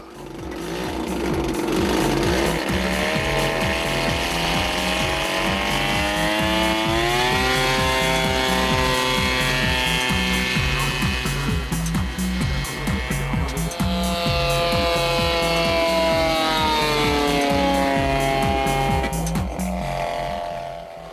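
A loud, steady engine roar with a rapid, buzzy pulse, holding strong throughout with slight pitch shifts as it passes: a 200 cc aero engine in a 50 kg model airplane with a 4.1 m wingspan, in flight.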